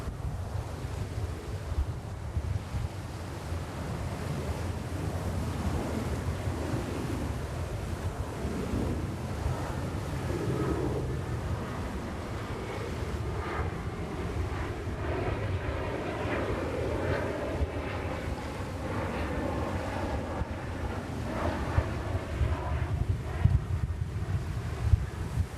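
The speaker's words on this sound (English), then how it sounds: "And right behind we have Flair to Canada on a MAX 8." A Flair Boeing 737 MAX 8 airliner at New York's JFK airport gives off a distant, steady jet roar mixed with wind noise, rising and falling softly over the full length with no talk.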